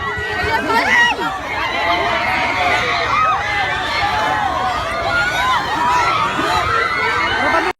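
A crowd at a town plaza shouts and cheers continuously, with excited voices and children's shouts layered into a loud, dense roar close by throughout.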